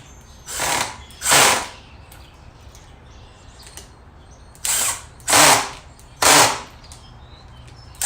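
A cordless power drill drives screws into a Ryobi 18-volt 10-inch string trimmer/edger, giving five short, loud whirring bursts up close with quiet pauses between them.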